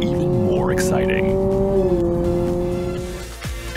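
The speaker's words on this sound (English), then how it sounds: "Sport mode uses active sound control to add even more acceleration sound." Engine acceleration from a 2023 Honda Accord two-motor hybrid in Sport mode with active sound control, a loud steady rising tone that shifts pitch partway through, with a voice talking over it.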